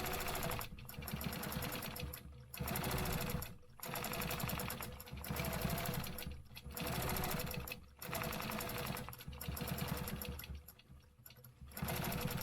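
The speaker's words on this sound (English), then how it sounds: "because I'm going to stitch this 1/2 inch grid, I can just go ahead and the whole way through" A sewing machine stitches a half-inch quilting grid, running in loud, steady bursts of rapid mechanical whirring broken by short pauses every second or so, close up and alone.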